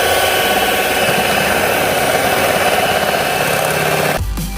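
A mixer whirs loudly and steadily through lemon cream pie filling made with whipped cream, frozen lemonade and lemon concentrate, then cuts off near the end.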